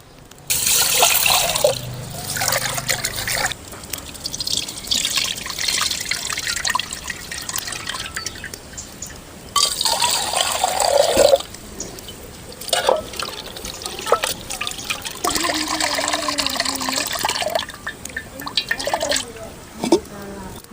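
Toor dal lentils being washed in water in a pot, with repeated trickling, dripping and sloshing at close range, mixed with bursts of talk from the cook throughout.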